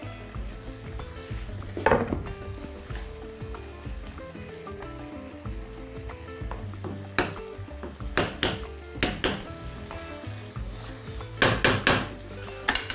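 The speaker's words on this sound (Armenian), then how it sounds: "Տապակվող բանջարեղենը հանում ենք" Vegetables sizzle and fry in a pan while cooking trout, with scattered clinks and scrapes of utensils against cookware and steady frying crackle throughout.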